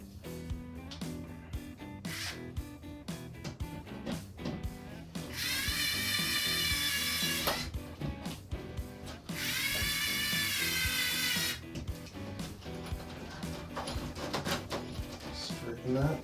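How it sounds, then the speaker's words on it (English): An electric screwdriver drives a screw into a 3D printed wall plug, heard as two steady bursts of bright whirring, each a couple of seconds long, over busy background sound with a voice nearby. "Actually, I'm going to use my electric screwdriver."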